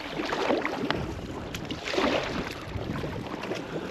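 A packraft is paddled across a Scottish loch, with slow rhythmic paddle strokes splashing and dripping close by under a steady hiss of wind and water.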